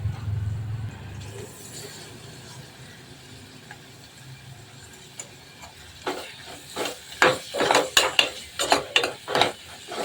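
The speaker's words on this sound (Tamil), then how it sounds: "இப்போ இதில் நம்ம தக்காளி போட்டுக்கலாம்" Tomatoes sautéing in a pan for channa biriyani, a faint low sizzle at first, then a run of sharp clattering scrapes and knocks of stirring growing louder and more rapid toward the end.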